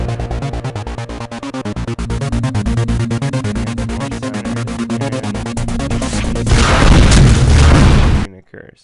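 A rocket fires and explodes in a UDK video game scene: dense rapid mechanical pulsing builds, then a loud roaring blast swells before cutting off abruptly, all very loud and close.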